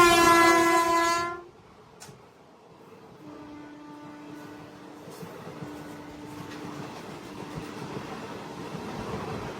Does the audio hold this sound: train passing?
yes